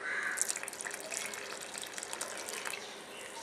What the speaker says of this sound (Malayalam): ഇനി ഇതിലേക്ക് തേങ്ങാപ്പാൽ ഒഴിക്കാം.